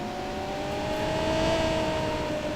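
A racing car engine in Super Monaco GP on the Sega Mega Drive drones as a steady synthesized whine, holding a high, slightly wavering pitch that rises a little mid-way, loud and continuous.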